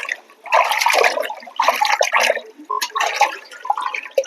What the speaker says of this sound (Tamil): அதை இந்த மாதிரி தண்ணி நல்லா நிறைய ஊற்றி அலாசிக்கணும்